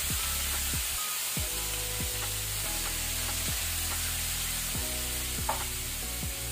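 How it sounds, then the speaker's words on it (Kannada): Water is sprinkled into a hot pan of egg drop masala, and the pan gives a loud, continuous, hissing sizzle close up. Faint scraping and a steady tonal hum run underneath. "ನಾನಿಲ್ಲಿ ಸ್ವಲ್ಪ ವಾಟರ್ ನೀರನ್ನು ಸ್ಪ್ರಿಂಕಲ್ ಮಾಡ್ತೇನೆ"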